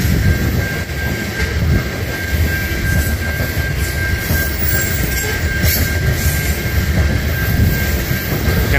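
BNSF locomotives lead a long, heavy ethanol train through curves, giving a steady, loud rumble with engine drone and continuous wheel noise throughout, with no voices.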